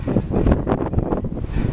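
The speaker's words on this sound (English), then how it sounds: "So windy." Gusty wind blowing outdoors at a plant shop in Ontario, California, with steady low buffeting and rumble across the microphone, continuous and close throughout.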